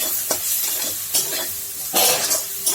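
Fried potatoes go into spiced masala in a pan, giving a loud continuous sizzle broken by several bursts of stirring and scraping.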